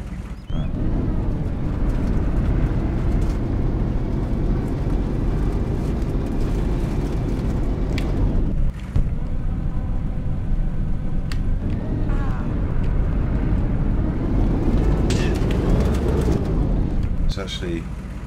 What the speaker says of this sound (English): one of the things I like about the Humvees, listen to this